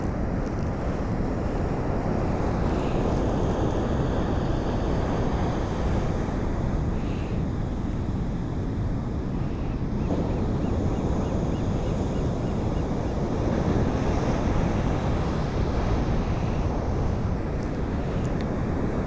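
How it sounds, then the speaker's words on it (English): Rough ocean surf during a storm on the Oregon or California coast, a continuous loud roar of waves mixed with heavy wind buffeting the microphone throughout. "The ocean, it's kind of angry."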